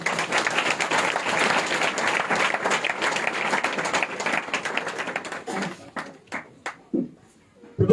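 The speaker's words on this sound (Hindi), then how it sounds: "हम ताली बजाकर उनका स्वागत करेंगे।" An audience at a Christian Christmas celebration in India claps steadily and densely to welcome a guest onto the stage, then the applause thins into a few scattered claps near the end.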